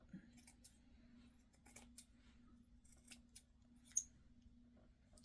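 Scissors trimming paper while making farmhouse-style decor, faint scattered snips and rustles over a low steady hum, quiet and close.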